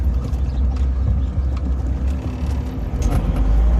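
A diesel camper van drives along a coastal road, its engine and tyre rumble a continuous low drone from inside the cabin, fairly loud with no talking.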